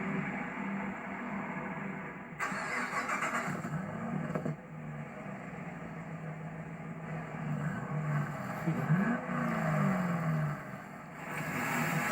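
A 2011 Chevrolet Camaro SS Convertible engine starts and settles into a low, steady idle, with the exhaust rumbling nearby and swelling slightly late on.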